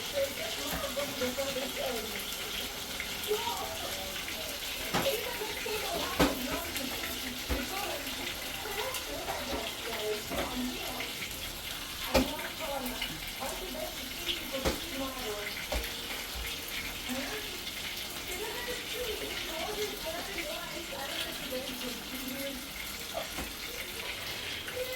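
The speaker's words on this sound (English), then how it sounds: "I wash up as we go, you know?" Running water at a kitchen sink while dishes are washed up during home cooking, a steady splashing stream with scattered clinks and knocks throughout, close by, with faint talk in the background.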